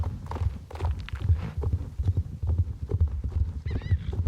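The horse Wildpath walks steadily in a riding video game, hooves clip-clopping in an even rhythm close by, with a soft whinny near the end.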